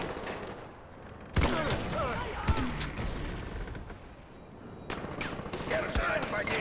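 Gunfire in Far Cry 4: sharp, loud reports break out in bursts, several spaced shots and rapid clusters standing out against a low background rumble, with a voice talking intermittently.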